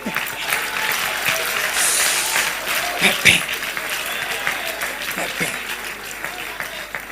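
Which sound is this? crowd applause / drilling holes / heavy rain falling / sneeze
crowd applause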